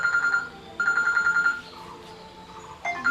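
A mobile phone rings with a call from a foreign number, a repeating electronic ringtone in bursts with short pauses between them, close and clear, no talking.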